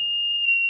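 A buzzer in a temperature-sensor fire alarm project sounds as a loud, steady, piercing electronic tone held for under a second.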